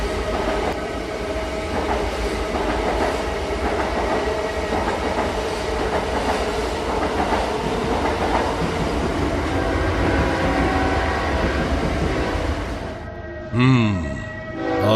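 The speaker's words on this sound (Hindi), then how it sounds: "रात के 8 बजे शताब्दी एक्सप्रेस स्टेशन पे आती है।" The Shatabdi Express train pulls into a station with a long, steady rumble and rhythmic wheel clatter. Near the end it fades into a quieter, tonal passage.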